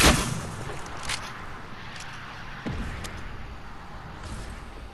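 Gunfire crackles at a distance in a shooter game, several sharp reports spaced apart, the first loudest and the rest fainter over a low background hum.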